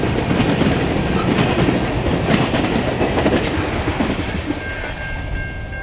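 A long Canadian National freight train with SD70M-2 and ES44DC locomotives rolls past close by, a loud continuous rumble with rhythmic clacking of wheels over rail joints, easing slightly toward the end.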